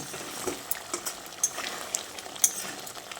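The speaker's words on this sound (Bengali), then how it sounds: "তারপর আরও একবার হালকা হাতে নেড়েচেড়ে মিশিয়ে নিচ্ছি।" Green peas cooked with a little ghee are gently stirred in a pan, giving soft scraping strokes with a few light spoon clicks against the metal, close and fairly quiet, with no talking.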